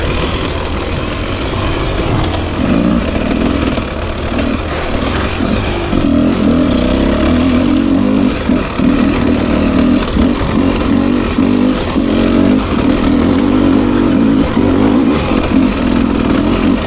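A 2024 Beta 300 RR Race Edition two-stroke dirt bike engine runs loud and close while riding, a steady low growl with rhythmic throttle pulses and surges, no talk.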